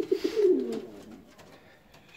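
Saxon swallow fancy pigeons cooing close by, a soft low warbling coo that swells in the first second and then trails off under quiet room noise.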